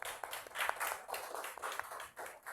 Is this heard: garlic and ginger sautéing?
no